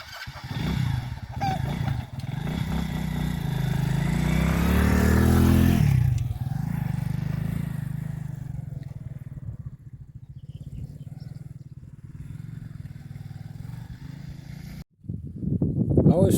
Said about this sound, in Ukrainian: А зараз, друзі, сідаю я на цей мотоцикл і поїду ще покажу вам, що робиться в полі